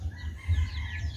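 Rhode Island Red chickens, two months old, cluck and crow softly nearby, a short burst of fowl calls over a low background rumble.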